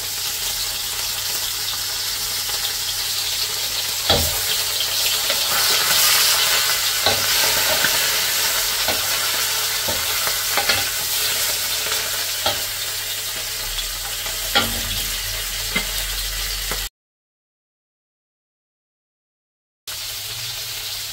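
Steady sizzling of smoked fish frying in a pan, with occasional louder crackles and stirring clicks, close by; a brief silent gap near the end.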